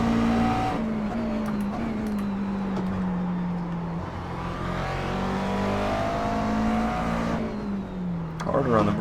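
Race car engine in the sim racing game iRacing, a loud buzzing motor holding a high steady pitch, dropping briefly on a lift and climbing again through gear changes, with tire noise and someone talking over it.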